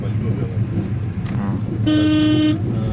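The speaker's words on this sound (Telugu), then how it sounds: "హార్న్ కొట్టు" A vehicle horn gives one sustained toot of under a second on a village road in Srikakulam district, cutting through steady engine and traffic rumble while voices talk nearby.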